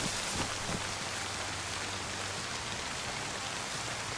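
Heavy rain pours in the video game DayZ, a loud, dense, even hiss with no pauses and no voices.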